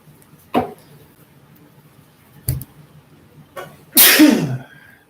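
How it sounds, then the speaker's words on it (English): A single sharp, loud sneeze bursts out near the end, after a few faint clicks and taps in an otherwise quiet indoor room. "I'm going to take that sneeze as confirmation here"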